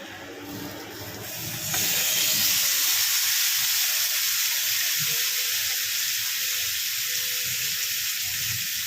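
Chicken pieces hit a hot pan of reddened fried onions, starting a sudden loud, steady sizzle and hiss that carries on evenly after a brief quieter lead-in of handling noises.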